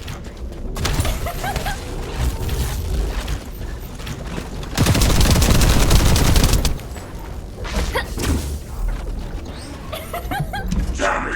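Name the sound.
gunfire in video game The First Descendant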